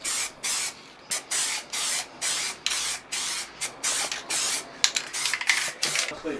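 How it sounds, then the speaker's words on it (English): A spray can lays down coats of matte clear lacquer in about a dozen short, loud bursts of hiss, each about a third of a second long, the bursts quickening and clustering toward the end. "So I applied a few coats of matte clear lacquer to prevent the design from bleeding or running."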